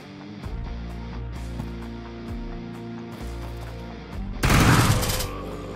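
Shotgun blasts in the sci-fi survival game Quasimorph, a dense burst of booming shots near the end, loud and close, following a stretch of droning game sounds with no talk.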